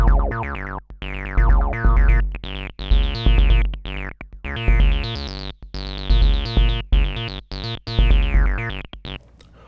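Irregularly spaced kick drum hits from a DFAM semi-modular analog synthesizer with random gates, booming low thumps with tonal decays, loud and alone, no talking.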